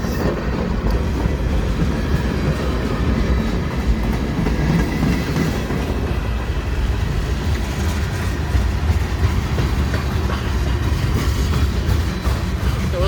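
A freight train rolls through a small town along Depot Street in Chapel Hill, Tennessee, producing a steady, close rumble with rhythmic wheel clatter and faint squeal lasting the whole stretch.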